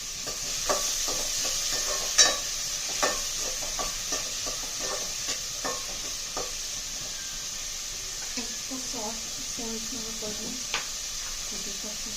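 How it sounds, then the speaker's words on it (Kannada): Spices sizzle in hot oil in a pan on a gas stove, a tempering for white chickpea curry. A soft, continuous hiss is broken by sharp stirring clicks and taps, with brief muffled voice sounds near the end. "ಈಗ ಇನ್ನೊಂದು ಗ್ಯಾಸಲ್ಲಿ ಮತ್ತೆ ಪುನಃ ವೈಟ್ ಚೆನ್ನನ ಒಗ್ಗರಣೆ ಹಾಕ್ತೀನಿ"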